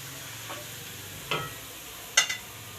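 Spoon stirring cumin seeds and black peppercorns into browned onions in a pan, with a few brief scraping strokes over a faint sizzle.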